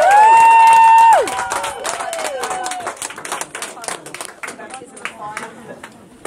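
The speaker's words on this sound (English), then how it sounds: "Give him a cheer." Wedding guests clapping and cheering, a loud whoop opening into a scatter of applause and brief shouts that taper off over several seconds.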